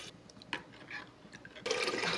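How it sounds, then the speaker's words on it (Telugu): Water from cooked cowpeas is poured into a pot of rasam containing tomatoes and dried red chillies. A quiet stretch with faint drips gives way to a steady, louder rush of liquid. "ఇందులో అలచందల వాటర్ వేసుకోవాలి ఫ్రెండ్స్"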